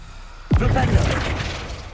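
A Flipendo spell cast in Hogwarts Legacy on PC lands as a sudden burst: a sharp whooshing impact that rings out and fades over a second or so.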